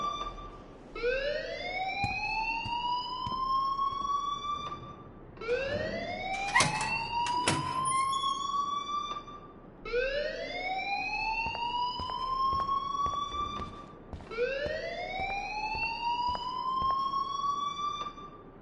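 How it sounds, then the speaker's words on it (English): Fire alarm in the video game Life is Strange, wailing in four rising, siren-like sweeps spaced about every five seconds, loud and continuous with short gaps, with faint clatter in the background and no speech. "please turn off that alarm since that's your job"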